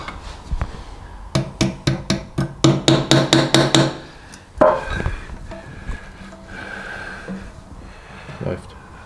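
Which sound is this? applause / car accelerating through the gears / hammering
hammering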